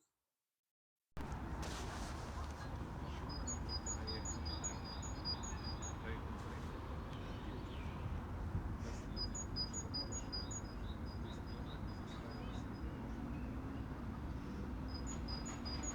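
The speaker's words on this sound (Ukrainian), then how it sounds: "у нас Синиця велика." A great tit sings outdoors, faint and distant, in repeated bursts of quick high-pitched notes over a steady background hiss of open air.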